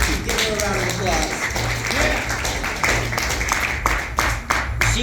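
A comedy show audience applauds the comedian's partner, a dense, continuous wash of clapping with a few sharper claps, while voices talk and call out over it.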